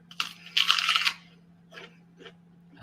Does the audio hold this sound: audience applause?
no